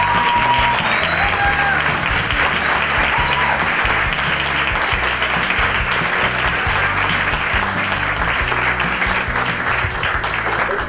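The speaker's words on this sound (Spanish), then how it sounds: "Un grandísimo, por favor, un grandísimo aplauso" An audience at a university event gives sustained, dense applause, loud and steady throughout, with faint voices under the clapping.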